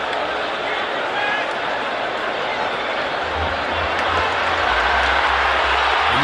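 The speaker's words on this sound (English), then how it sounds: "you can hear the roar of this crowd" Steady roar of a soccer stadium crowd during a USA vs Haiti Gold Cup match, loud and continuous, with a commentator talking over it.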